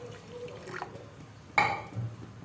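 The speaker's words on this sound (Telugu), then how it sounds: "తగినన్ని నీళ్లు వేసుకుందాం." Water is poured into a pan of cooked grated vegetables for a besan curry, a short splashing gush that rises suddenly and fades, preceded by faint kitchen clinks and drips.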